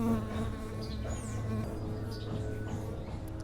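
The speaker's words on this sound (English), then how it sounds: "Is that a bee?" A bee buzzes close by at Lake Atitlan, a loud steady droning hum with wavering pitch that persists throughout, over faint outdoor background noise.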